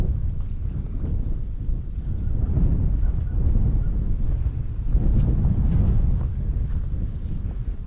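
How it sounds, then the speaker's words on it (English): Strong morning wind buffeting a microphone outdoors, a steady loud low rumble with gusty swells throughout and no talking. "I suppose you can hear the wind is pretty strong this morning."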